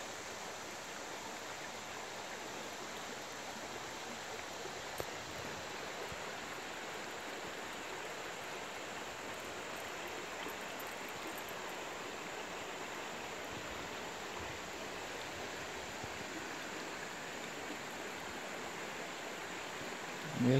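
Steady, even rush of flowing creek water fills the whole stretch at moderate level, close and continuous, with a brief faint knock near the middle and a small bump right at the end; no speech.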